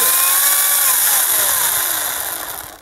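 A Ryobi 40V 14-inch brushless cordless chainsaw whines at full speed, a loud high-pitched motor and chain drone that winds down and fades toward the end.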